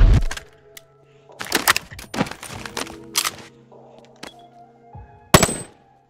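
Gunfire at a target in the VR game Boneworks, with several sharp cracks spread across the span, each standing out loud and close against quiet gaps.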